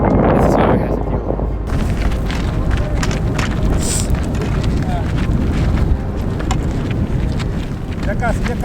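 Strong wind buffets the microphone high on Rainbow Mountain near Cusco, Peru, a loud continuous roar with heavy low rumble that never lets up, a brief quieter gust-free moment at the very start.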